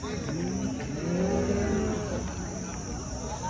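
A cow at the Baramati cattle market gives a drawn-out, wavering moo over the constant din of the market ground, with other animals and people in the background.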